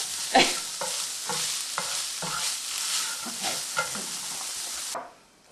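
Garlic and onion frying in butter and olive oil, a close steady sizzle broken by repeated spoon-stirring scrapes at an even rhythm, cutting off abruptly near the end.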